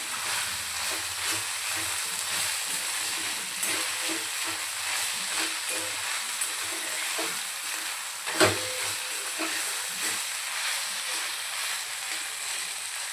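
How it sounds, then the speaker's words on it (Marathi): Chopped vegetables sauté in a hot pan for fried chicken momos, giving a steady, close sizzle with soft stirring scrapes throughout and one sharper clatter partway through, no voices. "आपल्याला छान पाच ते दहा मिनिट आपल्याला असं परतून घ्यायचं आहे"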